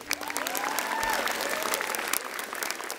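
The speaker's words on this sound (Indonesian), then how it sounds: "Tepuk tangan sekali lagi buat Aco." A live audience at a stand-up comedy show applauds a comedian, a short burst of steady crowd clapping with some cheering voices mixed in.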